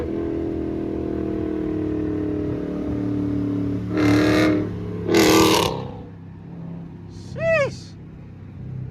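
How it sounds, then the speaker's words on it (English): A 2023 widebody Dodge Charger Scat Pack idles with a low, steady exhaust rumble, then revs hard in two sharp, loud blips, followed by a quicker third rev that rises and falls. "Boy, that car sounds so good."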